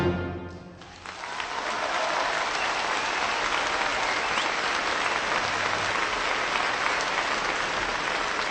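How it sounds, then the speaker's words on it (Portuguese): An audience breaks into applause in reaction to music, starting after a brief fading note and swelling into a full, sustained clapping that stays loud and even to the end, with no voices. "depois os aplausos como reação à música"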